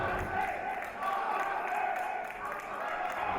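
Wrestling crowd at a live match cheering and shouting behind wrestler Derek Butler, a steady roar of many voices with rising swells, fairly loud and continuous throughout.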